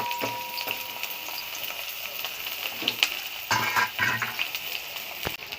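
Chopped ginger, onion and garlic hit hot oil in a wok, a close crackling sizzle with bursts of spitting and stirring scrapes, no voices.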